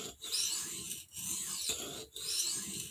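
A blade being sharpened to raise a burr, giving steady rasping strokes in three long passes with brief pauses between them, close and fairly quiet with no talking.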